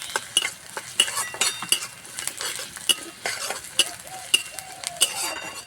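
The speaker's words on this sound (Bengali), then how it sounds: "পেঁয়াজ ভাজা হয়ে গেছে" Chopped onion with whole mustard seed, garlic and ginger fries in a pan while a utensil stirs and scrapes repeatedly, with steady sizzling underneath and sharp metallic clinks throughout.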